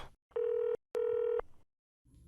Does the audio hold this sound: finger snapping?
no